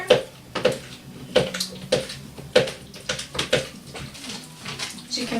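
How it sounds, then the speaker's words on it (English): A spoon stirs melting soap base in a bowl during tangerine soap making, giving a series of sharp clinks and scrapes roughly every half second, close and fairly loud. "Another quick little stir."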